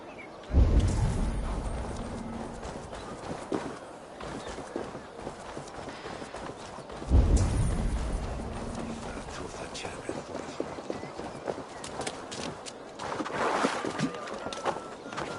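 Horse hooves thudding in Assassin's Creed Valhalla, two heavy bursts of galloping with a rumbling low end amid game music and effects.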